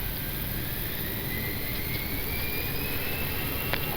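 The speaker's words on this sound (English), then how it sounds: "Okay, takeoff." Airbus A320 jet engines spooling at takeoff thrust heard from inside the cockpit, a loud, steady broadband roar with a faint rising whine, continuous throughout with no speech.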